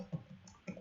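Computer keyboard typing, a few light, quick clicks and taps in a brief burst, quiet and close.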